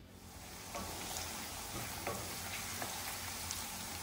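Chopped onion pieces sizzle in hot oil with mustard and cumin seeds while cooking a cauliflower egg curry, a steady, fairly quiet frying hiss with a few faint pops and crackles.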